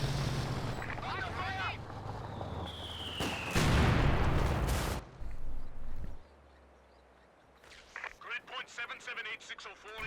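Mortar blasts and gunfire from a Company of Heroes 2 World War II real-time strategy match, with a loud broadband explosion burst mid-clip among battle noise and a whistling shell, partly under commentator talk.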